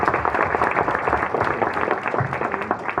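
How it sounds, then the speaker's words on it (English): An audience at a mayor's community night meeting gives a round of applause, a sustained, fairly loud patter of many clapping hands with faint voices mixed in. "Let's give them a big round of applause"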